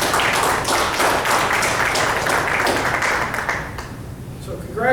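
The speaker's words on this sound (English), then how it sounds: "Let's give these two fine gentlemen a round of applause." An audience at a county school board meeting claps in a dense, steady round of applause that gradually thins out toward the end.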